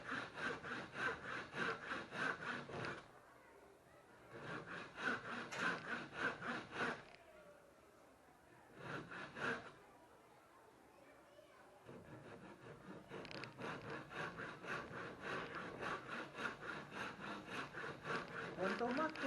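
A handsaw cuts wood for a half-lap joint in long rhythmic back-and-forth strokes, close and clear, pausing briefly twice before resuming a steady sawing run.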